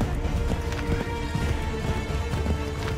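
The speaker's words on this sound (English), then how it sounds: "My horse can only run so far." A horse gallops in the Assassin's Creed 3 video game, with rapid, continuous hoofbeats pounding loud and close amid rumbling game ambience and no clear speech.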